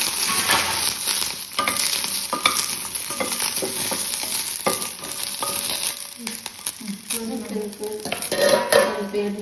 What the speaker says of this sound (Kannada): ಸ್ವಲ್ಪ ಎಣ್ಣೆ ಹಾಕಿ ಫ್ರೈ ಮಾಡ್ತೀನಿ.